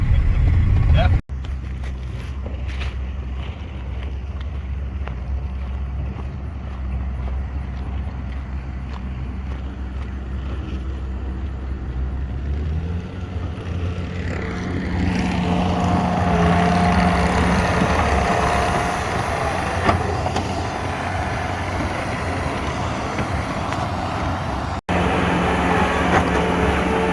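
A skid steer loader's diesel engine working on an acre of ground, a continuous low rumble that grows louder and busier midway as the machine revs and pushes, with brief clunks.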